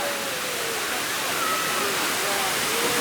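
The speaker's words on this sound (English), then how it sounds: "It's a very nice waterfall" Steady broadband roar of Lower Falls in Ithaca, New York, a swimming waterfall, heard close and constant with no breaks, faint voices barely surfacing through the rush.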